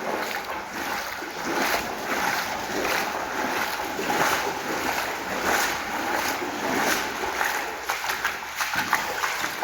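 Continuous noisy rush of the low-running River Frome sloshing and churning through a tunnel beneath Bristol, steady and fairly loud with a broad hiss and an enclosed echo.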